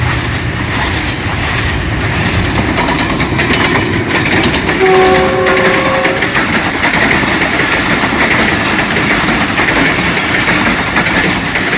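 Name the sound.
passenger train with locomotive arriving at Lahore station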